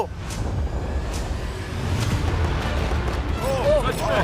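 Video-game fireworks launched at a yacht, with whistling shells rising near the end over a steady roar of booms and rumbling blasts.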